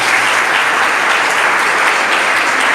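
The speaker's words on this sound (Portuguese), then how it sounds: "Aplauda forte, no nome de Jesus" A church congregation claps loudly and steadily, a dense wash of many hands close by with no pauses and no voices on top.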